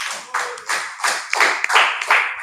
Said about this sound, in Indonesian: Oke, beri dulu aplaus.